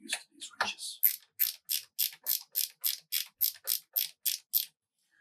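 Wrench ratcheting while installing a heatsink in an HP DL380 Gen9 server, a run of about a dozen crisp, evenly spaced clicks after a few quick handling sounds, close and alone.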